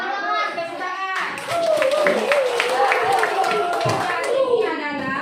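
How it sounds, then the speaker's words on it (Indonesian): Children clap hands in a classroom, a brisk, fairly loud burst of applause that starts abruptly and carries on steadily, with a voice and other speech mixed in. "Ya, tepuk tangan."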